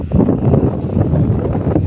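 Loud, buffeting wind gusts hit the microphone with a constant rumbling roar, and no voices are heard.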